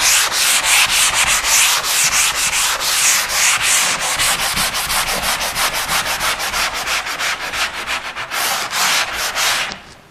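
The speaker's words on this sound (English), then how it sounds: "I always sand the edges first." Steady rhythmic sanding scrapes along the edges of a drywall inside corner, loud and close, with repeated back-and-forth strokes running continuously until they stop near the end.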